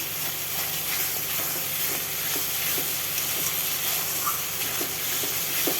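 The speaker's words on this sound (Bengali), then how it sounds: "এইভাবে কষাতেই থাকবো মশলাটা।" Spice masala with ground cumin sautés in oil in a pan for a Bengali katla fish curry, giving a steady, close sizzle and hiss with faint stirring scrapes and no voices.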